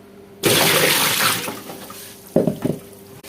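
Tap water runs steadily over an octopus being rinsed in a kitchen sink, a loud broadband splashing stream that softens, followed by a few short splashes and drips near the end.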